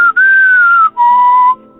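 A single voice whistles a short three-note phrase, loud and close, each tone sliding slightly in pitch, imitating a mysterious whistle heard from something walking past.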